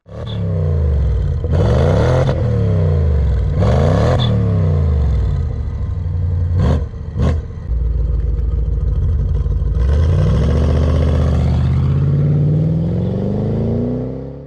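A black BMW X5 with a 4.8-litre V8 engine idles loudly nearby, then revs up several times in rising and falling surges before settling back into a steady rumble.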